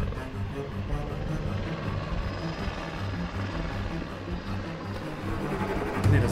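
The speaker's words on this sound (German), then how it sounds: "der Plan ist jetzt, wir sitzen im Helikopter" From inside a helicopter in flight comes a steady, moderately loud rotor thump with cabin engine roar, continuous and close, with no talk.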